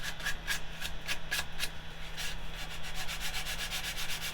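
Sandpaper against a turned pine cross spinning on a lathe: steady close abrasive rubbing with a run of quick rhythmic strokes over a low machine hum.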